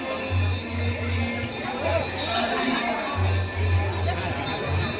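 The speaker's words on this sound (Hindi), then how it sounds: "बहुत ही ज़्यादा भीड़" Dense crowd hubbub during the aarti at Kashi Vishwanath temple in Varanasi, a steady wash of many voices with nearby talking over it.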